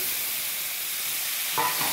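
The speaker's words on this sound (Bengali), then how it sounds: "মাছ ভাজা তেলের মধ্যে আমি আলুটাও ভাজা করে নিচ্ছি।" Potatoes fry in hot oil left over from frying fish for a thin fish curry, giving a soft, steady sizzle that swells slightly near the end; no one speaks.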